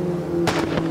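In the Automobilista 2 racing game, a car exhaust backfires with a quick double pop over a steady droning engine note, loud and sharp within under a second.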